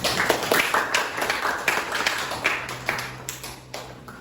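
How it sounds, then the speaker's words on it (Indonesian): Hands clapping in a classroom practice lesson, a small group giving sparse, uneven claps with sharp individual taps, moderately close and fairly quiet. "Silakan beri tepuk tangan."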